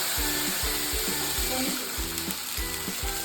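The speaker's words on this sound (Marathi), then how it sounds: "पाणी उकळून घेतलेलं आहे अंगावर उडल बरं का" Steady, close sizzling of boiling water hitting a hot pan, with rhythmic bubbling bursts repeating about every half second and no talking.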